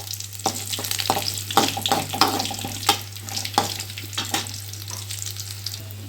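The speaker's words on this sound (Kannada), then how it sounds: "ಶೇಂಗಾ ಕಾಳು ಹಾಕಿದ್ರೆ ಒಂದು ಸ್ವಲ್ಪ ಫ್ರೈ ಮಾಡ್ಕೊಳ್ಳೋಣಂತ." Peanuts frying in oil in a pan for raw mango chitranna, crackling and sizzling up close with bursts of stirring scrapes and spoon knocks at irregular intervals; no talking.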